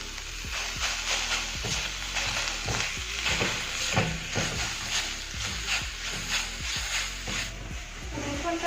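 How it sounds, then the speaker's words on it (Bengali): Garlic paste sizzles in a pan with fried onions, a steady frying hiss broken by repeated scraping stirs of a spatula at a fairly regular rhythm, close and continuous. "রসুনটা দেওয়ার পরও আমরা এটাকে ভালোভাবে কষিয়ে নেব"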